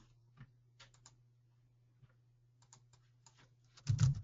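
Sparse keystrokes on a computer keyboard, a handful of light clicks in uneven bursts with pauses between, close and quiet over a low steady hum, ending in a louder thump.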